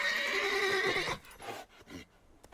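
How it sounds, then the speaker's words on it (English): Geralt's horse in The Witcher 3: Wild Hunt gives one loud, close whinny with a shrill, quavering call lasting about a second, followed by a few soft snorts and hoof sounds. "Luckily, Geralt can always count on his horse Roach to help him in his travels."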